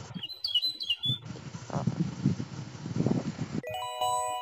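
Bird chirps from the video game Adventure Escape Mysteries: a few short, bright tweets at the start, followed by softer game sounds and a ringing chime-like tone near the end. No one speaks.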